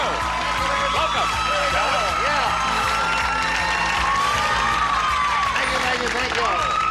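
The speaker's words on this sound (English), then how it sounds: "We appreciate your brisk applause, though." A studio audience claps steadily at a 1984 Match Game-Hollywood Squares Hour taping, with a dense, continuous wash of applause and a host's voice and tonal music over it.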